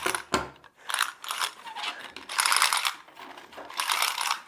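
A band clamp's ratchet mechanism is worked to loosen the band, giving close, crisp bursts of rapid clicking separated by short pauses.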